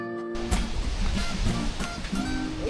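Sea waves breaking at South Beach in Pagudpud, a steady broadband wash of surf that runs loud and continuous, with repeated swells rolling in close by.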